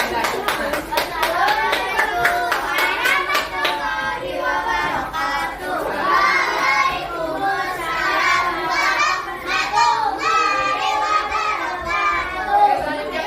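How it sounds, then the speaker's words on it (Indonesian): A class of fifth-grade children at an elementary school claps and cheers for a classmate group, with loud rhythmic clapping and excited young voices shouting over it throughout. "beri tepuk tangan dulu buat kelompok 5"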